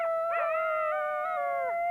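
Coyote howling in Yellowstone National Park: a single sustained, wavering howl with clear tonal rises and falls, close and alone with no other sounds.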